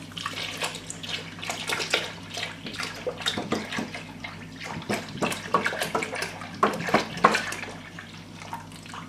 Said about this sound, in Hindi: बीच में आप डालेंगे इसमें दूध